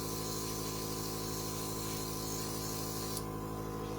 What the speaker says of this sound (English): because I have my airbrush, I'm just gonna airbrush it now with gold